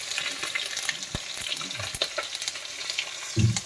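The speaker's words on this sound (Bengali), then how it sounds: "ডালটা ফোড়ন দিয়ে দিই, তেল গরম হয়ে গেছে" Dry red chilli and panch phoron tempering in hot oil for lentils, giving a close, steady sizzle dotted with small crackles and pops. A brief louder burst comes near the end, with no talk.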